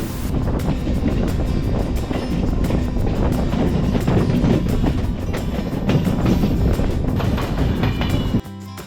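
Loud, continuous rumble and rattle of a local passenger train running on rails between Tiruvannamalai and Chennai Beach, heard from on board with wind buffeting the microphone, cutting off abruptly near the end.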